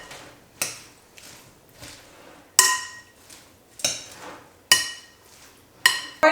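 Chopped Italian salad ingredients tossed in a bowl, producing six or so sharp utensil clacks against the bowl at irregular intervals, each with a short ringing decay, close and alone without speech.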